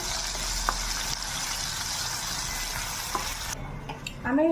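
Tomatoes and onions fry in oil with a constant sizzling hiss and a few stirring knocks. The sizzle cuts out abruptly near the end, followed by clatter and handling noises, with no voices.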